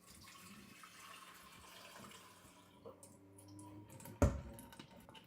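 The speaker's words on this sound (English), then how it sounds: "No, I think it's pouring water. No, it's my water filter." Water pours into a household water filter in a kitchen, a faint continuous trickle and splash under low room noise, ending with a sharp clunk near the end.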